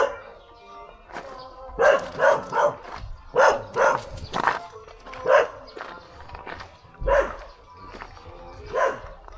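A dog barks repeatedly in short bursts during a door-to-door anti-rabies vaccination round in Lourdes, some loud and close, with a few whimpering yips between barks.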